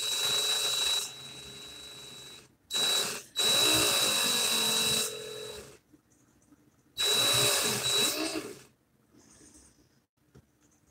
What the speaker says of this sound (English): I'm going to put my drill on slow.